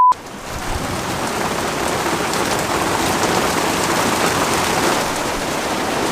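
Heavy rain pours down on a boat under sunshine, a loud, dense and unbroken hiss of drops that follows a brief click at the start.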